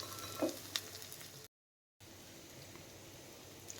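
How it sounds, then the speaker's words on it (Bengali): Chopped green chillies shallow frying in a pan give a faint, steady sizzle with a couple of brief spatters near the start, broken by a short gap of silence before the hiss resumes. "এই কাঁচা লঙ্কা কুচিটাও আমি একটু শ্যালো করে ফ্রাই করে নিচ্ছি"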